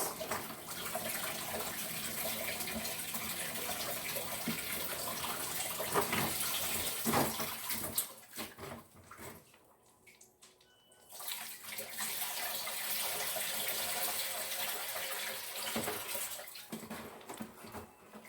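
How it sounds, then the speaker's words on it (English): Tap water runs hard into a sink while cabbage is rinsed under it. The gush is loud and steady, cuts out briefly midway, then resumes. "I like to give my cabbage a rinse."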